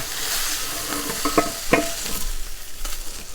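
Meat searing in a hot pan on a stove, a steady broadband sizzle with a few brief clinks and stirring scrapes partway through, close and moderately loud, no talking.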